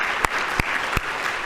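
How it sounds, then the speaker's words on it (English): Audience at a marijuana research symposium in Washington applauding with a dense, steady patter of clapping, loud and close, with a few sharper claps standing out. "take a minute to applaud them"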